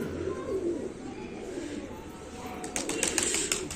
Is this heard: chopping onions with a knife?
no